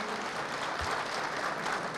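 A crowd applauds Karatay mayor Mehmet Hançerli at a community scholarship gathering, a steady, even wash of clapping from many hands at moderate distance, with no talk.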